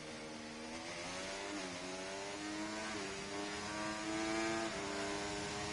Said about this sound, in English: you could hear the revs going.